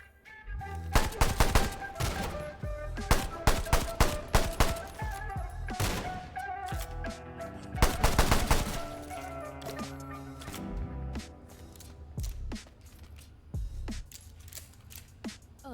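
Rapid bursts of gunfire in Cursed Digicam, loud sharp shots in quick clusters, some tight volleys around the first and eighth seconds, then sparser, fainter pops as the shooting tapers off.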